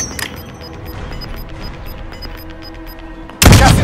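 Sniper gunfire in the video game Call of Duty: Modern Warfare Warzone: a low game ambience with faint distant pops, then one loud, sharp, close shot bursts out at the end.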